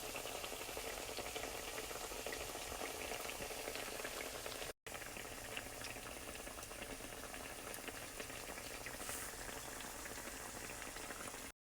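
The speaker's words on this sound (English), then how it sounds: "Okay, let those fry." Hot water cornbread patties frying in hot grease give a steady, dense bubbling sizzle that runs unbroken at close range, with no talking.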